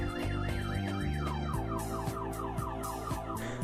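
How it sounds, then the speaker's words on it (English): A car alarm blares continuously, cycling through rising and falling electronic tones in a fast repeating pattern, loud and unbroken with no one talking. "Oop, car alarm."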